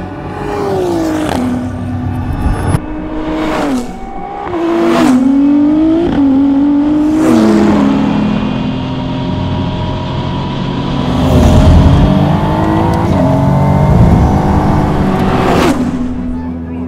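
Praga Bohema hypercar on Praga's test track, engine surging through repeated rising and falling revs as it accelerates and shifts, loud and close, then a sustained high-speed drone.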